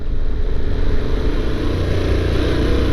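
A larger motorcycle than a KTM rumbles steadily up close while being ridden slowly over bumpy ground, its low engine drone continuous and fairly loud throughout.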